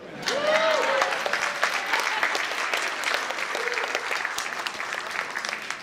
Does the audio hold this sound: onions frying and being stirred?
no